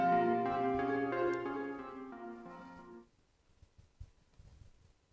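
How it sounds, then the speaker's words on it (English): A synthesized bell with a rippling arpeggio, sequenced by the Entropia module in VCV Rack, rings out as a bright sustained tone with stepping notes, then cuts away to sparse, soft low blips. "And the bell. And these are both being sequenced by Entropia."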